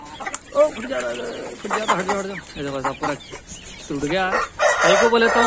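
A hen clucking close by in a poultry yard, with repeated rising clucks and squawks in short bursts while someone talks over it.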